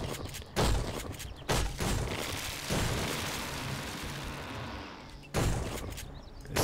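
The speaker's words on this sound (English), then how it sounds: "We're just going to shotgun it." Shotgun blasts in the video game 7 Days to Die, four heavy booming shots at irregular intervals, each followed by a long rumbling decay, loud and close with no talking.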